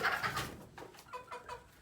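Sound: chickens clucking while eating

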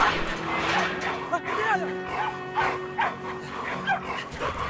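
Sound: dog barking and whimpering in video game Brothers: A Tale of Two Sons

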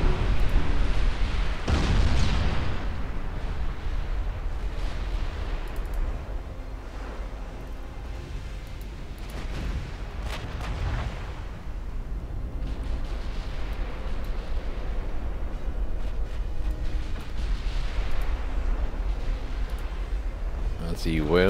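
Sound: warship gunfire in the video game Ultimate Admiral Dreadnoughts

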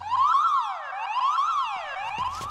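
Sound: alarm siren in animated cartoon

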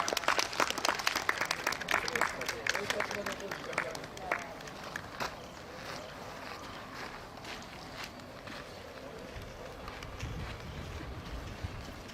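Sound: applause at a memorial stone unveiling ceremony

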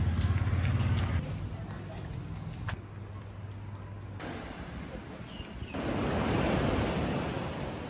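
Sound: waves breaking on Lamai Beach, Samui, Thailand

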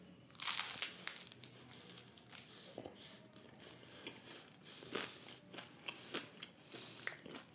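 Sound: biting into a crunchy cheese and corn taco

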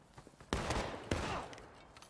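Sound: musket volley fire in a Civil War strategy video game

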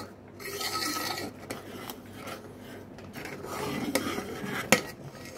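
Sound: stirring kheer (rice pudding) with raisins in a pot

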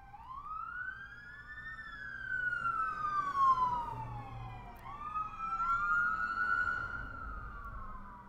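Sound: ambulance siren passing outside

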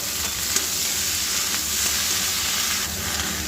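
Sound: pui metuli vegetables frying in oil with five-spice

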